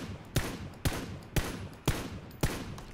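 Five evenly spaced single gunshots ring out in PUBG: Battlegrounds, each a sharp crack with a short tail, heard at a moderate distance with no talking.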